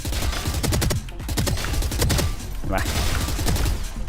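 Phantom rifle firing in Valorant, quick bursts of close, crisp shots separated by brief pauses, with someone talking over the shooting.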